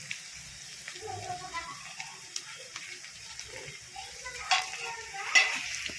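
Onion sautéing in a pan with salt for a dill greens dish, a soft continuous sizzle with scattered spoon clinks and scrapes, faint and close, the last few clinks louder.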